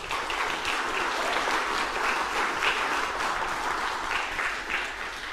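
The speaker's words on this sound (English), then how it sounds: "Ladies and gentlemen, please give them another round of applause." Dense, steady audience applause at an ACT Australian of the Year awards ceremony for the finalists, many hands clapping evenly and loudly from start to finish with no voices standing out.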